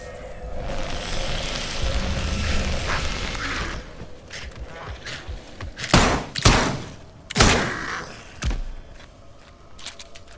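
Gunfire in the video game Atomfall, set in a nuclear-disaster Cumbria: several sharp, loud shots ring out one by one after a stretch of busy ambient game sound, each with a short booming tail.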